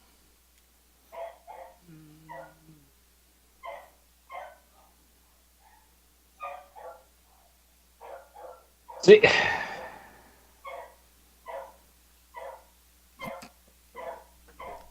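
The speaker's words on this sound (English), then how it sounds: "That's the dog in the background having a hurt." A dog barks and yips in short, spaced bursts in the background, faint and somewhat distant, with one louder bang-like thump partway through.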